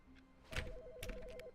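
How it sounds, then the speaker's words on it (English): Telephone ringing in The Stanley Parable: Ultra Deluxe video game, a short warbling electronic ring trilling for about a second under some rustling clicks, fairly faint. "That's a phone call."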